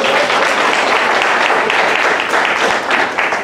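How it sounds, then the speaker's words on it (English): A dense, sustained round of applause from a lecture audience at a talk about Queen Charlotte, loud and even from start to finish. "Can we give a round of applause?"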